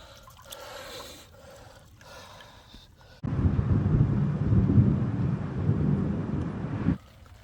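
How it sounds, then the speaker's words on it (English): A low, muffled rumble rises suddenly and rolls on for several seconds, like distant thunder, over faint outdoor background noise. "You heard the rumbles of thunder in the distance."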